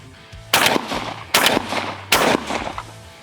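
Savage Renegauge 12-gauge semi-automatic shotgun firing Federal Black Cloud shells from the shoulder, three loud close blasts at roughly even intervals, each followed by a short ringing decay.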